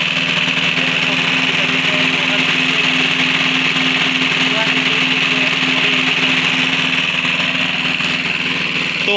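A diesel engine running a farm water pump that draws river water for crops drones steadily and loudly at close range with a constant hum that does not change for the whole stretch, and a voice talks faintly underneath.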